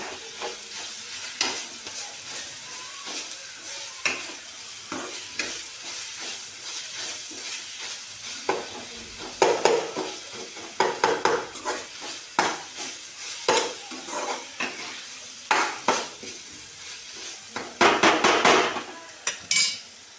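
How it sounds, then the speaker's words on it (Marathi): Mustard seeds and cumin fry in a pan for garlic spinach, a steady hiss and crackle with occasional sharp taps and scrapes as a spoon stirs them. The stirring grows busier toward the end, and nothing is said. "ह्याच्यामध्ये मी थोडीशी मोहरी घालून घेते, थोडीशी जिरं घालून घेते आणि ह्याला परत परतून घेते"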